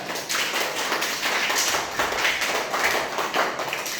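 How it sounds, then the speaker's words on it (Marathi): Schoolchildren in a first-grade classroom clap together in a quick, even run of claps, loud and close, continuing for a few seconds with no talking. "टाळ्या"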